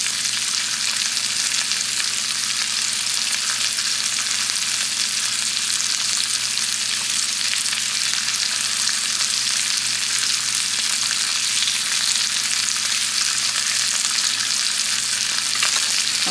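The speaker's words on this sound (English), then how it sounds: "I just cut it into pieces that I can easily stir fry in." Haddock pieces stir-fry in a pan, probably alongside onion and asparagus, giving a steady, close, continuous sizzle that holds an even level throughout with no talking.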